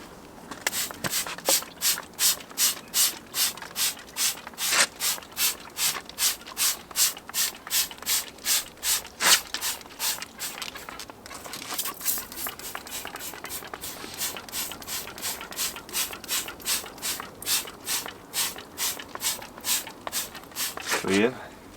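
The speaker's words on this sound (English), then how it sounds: "I've got my Maguire's brush, which flicks the dirt absolutely everywhere" A Meguiar's wheel brush scrubbing a car wheel makes a rapid series of rhythmic rubbing, swishing strokes, close and fairly loud, repeating steadily throughout.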